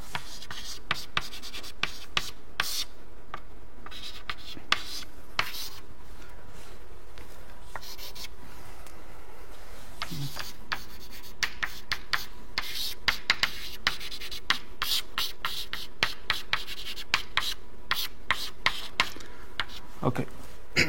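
Chalk or marker writes on a board in a lecture hall, producing steady scratchy strokes and taps over about twenty seconds while a person speaks intermittently.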